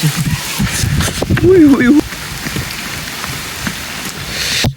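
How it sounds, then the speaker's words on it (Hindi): Steady rain pours down with a broad hiss, while people talk over it and a brief tonal sound rises midway. "बारिश बहुत ज़्यादा है"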